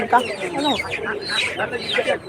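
Chickens cluck and chatter at a busy village market, close and fairly loud, with short broken calls overlapping and people talking nearby.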